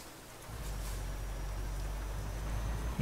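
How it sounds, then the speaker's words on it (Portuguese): Steady rain hisses down in Euro Truck Simulator 2, a continuous even patter with a low rumble beneath, moderately quiet and without speech. "que da hora a chuva, cara"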